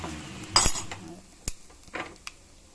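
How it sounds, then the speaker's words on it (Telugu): Spoon stirring tempering into boiled rasam in a metal pot, a few sharp clinks and scrapes spaced out over a quiet background. "చారులను ఈ తాలింపు వేసేసి కలుపుకోవడం"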